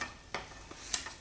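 Semolina being stirred into hot sugar syrup in a pan for rava laddoos, a few soft scraping clinks of a spoon against the pan over a faint hiss, close and quiet, no voices.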